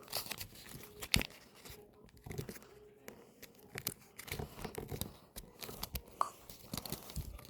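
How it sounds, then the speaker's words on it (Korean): Paper being creased and folded by hand for an origami tank's cannon and steel parts, with crisp rustles and sharp crinkling snaps at irregular moments, close and fairly quiet. "이렇게 접어줍니다."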